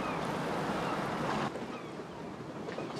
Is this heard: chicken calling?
no